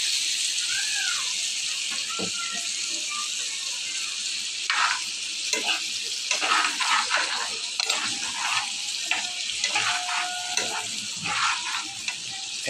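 Ingredients, including taro, fry steadily in a hot pan with a loud, continuous sizzle, broken by scattered clicks and scrapes of stirring.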